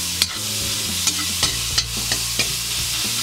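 Onions hitting hot oil in a pan and being stirred, a steady sizzle broken by several sharp utensil clicks against the pan, close and alone with no voices.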